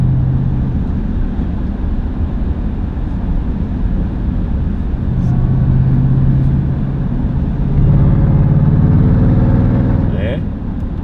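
A 710 PS Jeep Grand Cherokee Trackhawk in Track mode at full throttle gives a steady, loud engine drone that swells toward the end, heard under someone talking in German.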